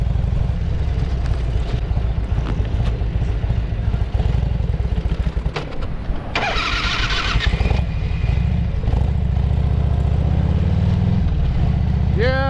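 A Harley-Davidson touring motorcycle pulls away with a loud, steady rumbling engine close by, rising in pitch as the rider accelerates, with a brief rattling clatter midway.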